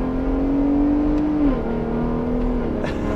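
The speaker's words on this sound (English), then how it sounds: "as soon as you're driving and you get on throttle and it gets in those high RPMs, it sounds high performance" Ford Raptor R pickup's V8 engine revving loudly as the truck accelerates, a steady close drone whose pitch climbs, dips briefly at a shift, then holds high again, with no voices over it.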